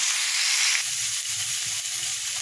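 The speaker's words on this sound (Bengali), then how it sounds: "চিকেনগুলোকে এইভাবে বাদামি করে তুলে নিচ্ছি" Chicken pieces frying until brown, a steady close sizzle with a few low clattering pulses of stirring or turning underneath, no voices.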